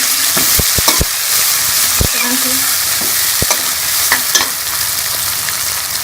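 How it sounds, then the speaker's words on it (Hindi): Tomatoes and green chillies frying in a pan for a zucchini sabzi, a loud continuous hiss broken by sharp taps and scrapes of a spatula stirring, up close with no speech. "ये टमाटर और हरी मिर्चें डाल देंगे। इसको हम मिक्स कर लेंगे"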